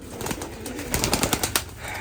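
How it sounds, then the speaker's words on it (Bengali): Giribaz high-flying pigeons at a large pigeon farm, let loose with a burst of wing flaps and scattered bird sounds, fairly close and busy, no talk. "কবুতর ছাড়েন একটু ছাড়েন একটু ছাড়েন দেখি"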